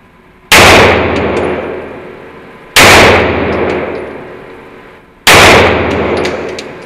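Three evenly spaced pistol shots from a Staccato P at a shooting range, each a loud sharp crack with ringing metallic tail and decaying echo.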